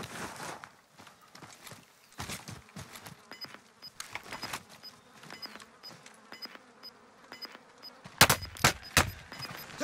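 Gunfire in a video game, scattered sharp shots and short bursts at varying distances mixed with footsteps and a faint buzzing insect-like tone, ending in a louder close burst.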